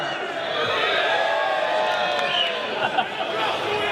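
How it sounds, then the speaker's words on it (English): An audience of fans at a UFC London Q&A event booing, a sustained rumble of jeering voices filling the room, fairly loud and steady with a brief louder swell near the end. "I know you're booing me"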